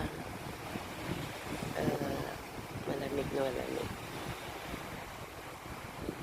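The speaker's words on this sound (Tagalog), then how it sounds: "Oh, ganda ng alon." Ocean surf washing up at a beach, a broad steady wash of waves with wind buffeting the microphone, while people talk over it throughout.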